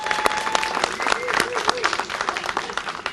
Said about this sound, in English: can we give Gary, the Deputy Director over at DER, a round of applause for all the work he's doing?